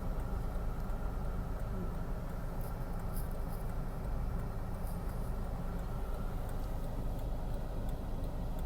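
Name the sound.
road traffic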